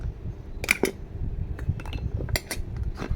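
A cooking pot and its lid handled in a small home kitchen while rice is being set to cook, giving several close metallic clinks and clatters over a low background hum, with no talking.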